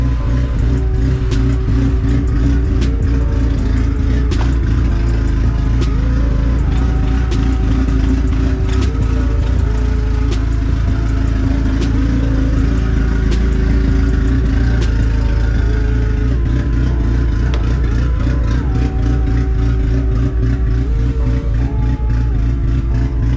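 A Dodge SRT engine idles steadily after starting, a loud continuous low rumble with slight revving swells, running alone without talk.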